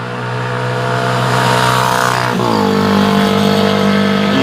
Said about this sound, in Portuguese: O barulho da moto